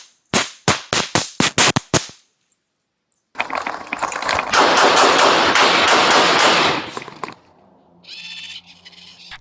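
Gunfire during a police critical incident on Richey Blvd in Tucson: a rapid string of loud, sharp shots, a brief silence, then a dense sustained barrage of overlapping shots, close and harsh, ending in a quieter muffled tail.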